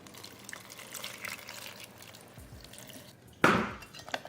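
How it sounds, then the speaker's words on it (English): Water poured onto chili ingredients to soak them in a kitchen, soft faint trickling and glassy clinks followed by a sharper splash near the end. "Add water."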